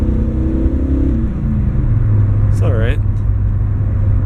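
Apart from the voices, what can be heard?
junk car engine running while driving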